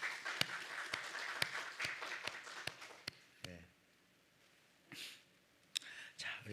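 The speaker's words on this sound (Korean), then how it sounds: "우리 박수로 한번 하겠습니다" A congregation at a Korean church service in Hawaii claps to welcome visitors. The clapping is faint and scattered, with sharp individual claps over a few seconds, then a lull and a brief second burst, with some talk mixed in.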